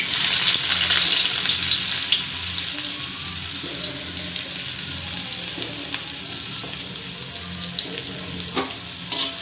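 Chopped garlic and onion sizzle in hot oil for a begun bharta, a loud hiss at first that settles into a steady crackle with faint scrapes and clicks, no one speaking.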